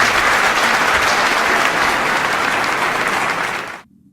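Dense, loud audience applause at a Sicilian-language stage production of Romeo and Juliet holds steady for several seconds, then fades quickly and cuts to near silence.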